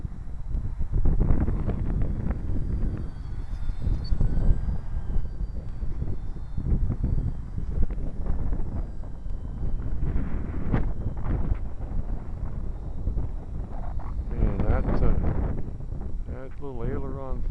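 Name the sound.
wind blowing during outdoor flight of UMX Beast planes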